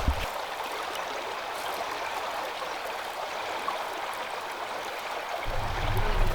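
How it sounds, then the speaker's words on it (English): Rushing water of a cascading waterfall in a Greek gorge roars continuously in a broad, steady sound, with a deeper rumble joining toward the end, in windy conditions. "there is a kind of cascade waterfall"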